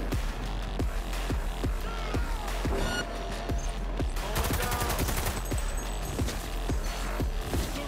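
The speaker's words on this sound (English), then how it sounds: "all of a sudden, like, freaking people are shooting at us" Gunfire from the video game Cyberpunk 2077 during a heist shootout: rapid repeated shots and bursts crack throughout, loud and dense, with a steady low game hum beneath.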